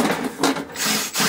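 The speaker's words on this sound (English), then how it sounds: "You can use a regular screwdriver." Short rasping, grinding bursts of a hand screwdriver working screws loose from an electrical panel, coming in quick uneven pulses close by.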